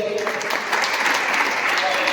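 Audience applause at a Women's Day gathering, a steady dense clatter of many hands clapping throughout, fairly close and continuous with no pauses.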